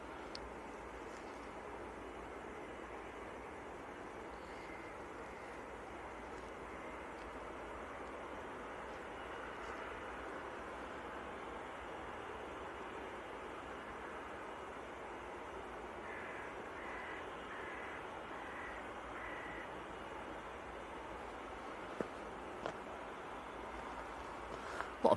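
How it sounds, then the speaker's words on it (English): A fixed-wing airliner passes at Manchester Airport during a freezing snowy spell, a steady distant engine roar holding level throughout with faint clicks near the end. "A lot of aircraft going to Bridgetown today. This is another one."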